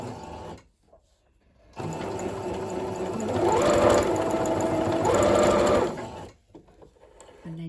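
Domestic sewing machine stitching a seam on a dress along a tailor's chalk line, a brief whir, a pause, then a longer steady mechanical hum that speeds up slightly midway before stopping, close and clear.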